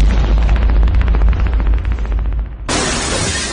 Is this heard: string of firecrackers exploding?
yes